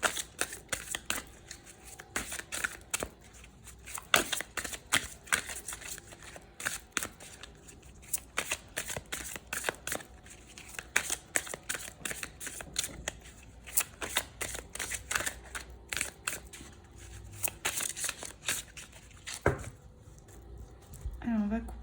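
Tarot cards are shuffled by hand in continuous quick riffles and soft slaps, close and fairly quiet, with an irregular rhythm running throughout.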